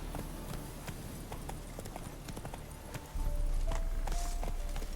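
Horse hooves clip-clopping at a steady walking rhythm in The Witcher 3: Blood and Wine, crisp and close, with the ground noise growing fuller partway through.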